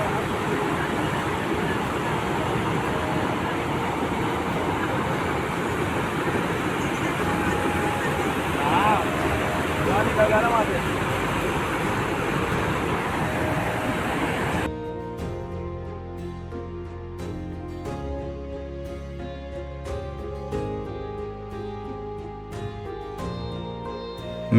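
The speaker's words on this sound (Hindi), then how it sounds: "नर्मदा नदी जब बहती है तो उसकी आवाज़ कैसी आती है" Narmada river rushing at Dhuandhar waterfall near Bhedaghat, Jabalpur, a steady loud broadband roar of falling water for about fifteen seconds before it gives way to music.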